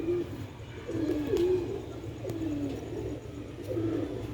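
Sialkoti roof pigeons coo in a soft, throaty rolling rhythm, with several repeated calls close by over a low, steady background and no talking.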